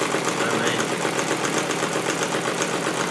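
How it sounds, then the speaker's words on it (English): A small radial four-piston magnet engine runs steadily in near darkness, giving off a continuous, even whirring and rapid mechanical clatter at close range with no pauses. "Radial little engine there."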